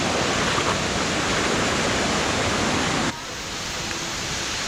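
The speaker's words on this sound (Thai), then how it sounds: "ถึงน้ำตกแล้วนะครับทุกคน" A waterfall gives a dense, constant roar of falling water, loud and close throughout, dropping slightly in level near the end.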